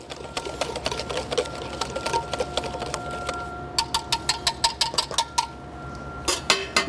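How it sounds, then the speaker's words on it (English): A whisk beating homemade barbecue sauce to smooth out clumps: rapid rhythmic metallic clicking against the bowl, steady at first and then in quicker, louder strokes, close by with no voices. "I like to switch over to a whisk just to get any of the clumps out."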